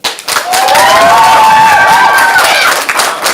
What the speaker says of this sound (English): First, applaud for the blue team.